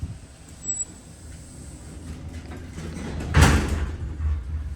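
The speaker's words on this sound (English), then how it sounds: "I'm gonna close up the door" Vintage Dover hydraulic elevator door sliding shut in a Veterans Administration building, a low rumble rising to a heavy thud near the end, close and fairly loud.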